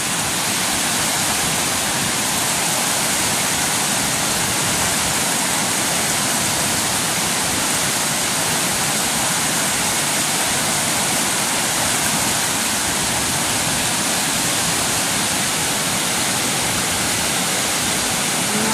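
Strong flood water rushes past in a dense, steady roar, carrying debris like banana plants, loud and unbroken throughout with no pauses.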